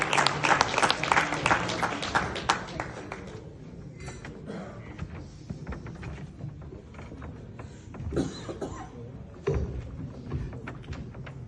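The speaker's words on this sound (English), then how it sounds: "Let's keep clapping. Let's welcome the young man." A crowd keeps clapping to welcome Dr. James Alic Garang at an African leadership gathering in London, loud dense applause at first that thins to scattered claps and softer bursts, with a few knocks and shuffles.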